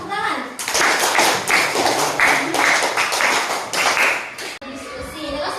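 A classroom of students claps together, loud and close, in repeated rhythmic bursts that follow a set pattern, ending with a brief pause before murmuring resumes.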